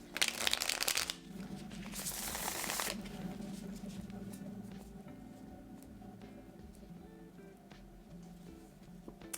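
Tarot cards shuffled by hand in a few quick, dense riffling bursts over the first three seconds, followed by softer handling and faint rustling as the deck is dealt out, with no talking.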